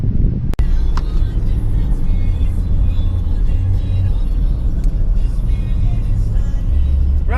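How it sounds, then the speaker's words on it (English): A rental car driving on the road in the Turks and Caicos, recorded from inside: a steady low engine and tyre rumble throughout, with a sharp click or knock near the start. "Driving a little while on the wrong side of the road."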